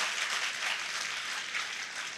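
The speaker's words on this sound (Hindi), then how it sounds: "ऐसी तालियां नहीं, और जोरदार बजाइए, तालियां जंदार बजनी चाहिए।" An audience at a motivational seminar claps, a faint, even wash of applause that holds steady for a couple of seconds with no voices over it.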